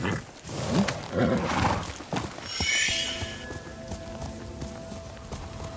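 In Ghost of Tsushima, a horse whinnies over a burst of heavy hoofbeats and rushing noise, then the clatter fades into a quieter steady tone with distant rumble.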